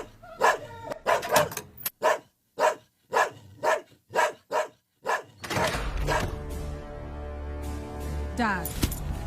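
A dog barks in a quick run of sharp, loud yaps, followed by a denser burst of noise with other sounds mixed in.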